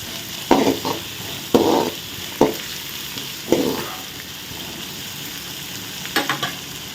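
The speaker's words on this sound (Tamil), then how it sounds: "வெங்காயம் வந்து நல்லா வதங்கிருச்சு" Onions sautéing in a pan for a brinjal and drumstick kara kuzhambu, a steady sizzle broken by several short scraping stirs of a spoon against the pan.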